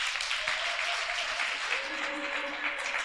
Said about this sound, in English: Let's give God a clap offering as our pastor makes his way tonight.